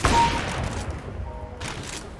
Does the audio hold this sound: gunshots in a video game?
yes